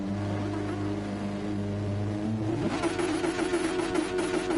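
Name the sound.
racing car engines revving at race start, video game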